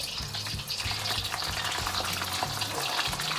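Fish morcon frying in hot oil in a wok, giving a steady close sizzle with a bright crackling hiss throughout and faint low clatter now and then.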